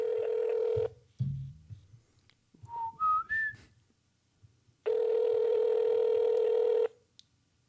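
A steady electronic ringback tone sounds twice in long bursts, with a few rising beeps and faint clicks in between, heard through a phone speaker.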